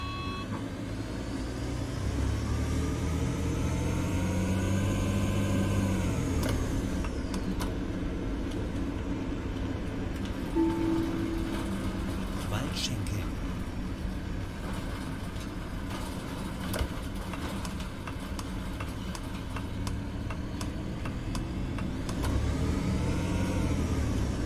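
A city bus in the OMSI 2 simulator pulls away from a stop and drives on. The diesel engine revs up through its gears with a steady, close rumble and rising, falling pitch, with no talk over it.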